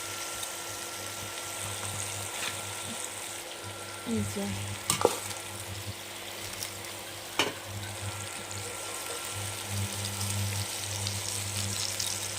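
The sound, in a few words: green chillies frying in a pan for rita fish curry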